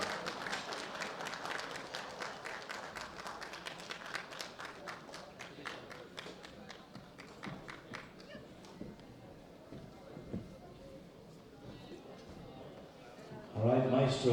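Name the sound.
audience applause for bench press lifters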